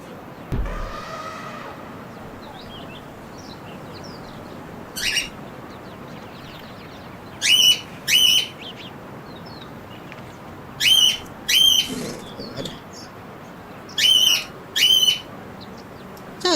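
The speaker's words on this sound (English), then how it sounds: "Sorry for the birds." Birds outside give short, bright whistled calls in paired bursts, repeated at intervals of a few seconds, fairly clear against a quiet background hiss, with a low thump near the start.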